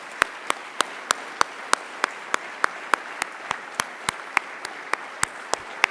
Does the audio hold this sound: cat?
no